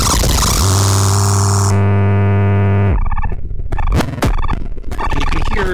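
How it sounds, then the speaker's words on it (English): Synthesizer run through a DOD FX86B distortion pedal, a loud, harsh, saturated drone with sustained buzzing tones that break into chopped, glitchy noise bursts and sweeps, continuous and close with no talk. "the gain and the distortion in this really bring out those small synth sounds"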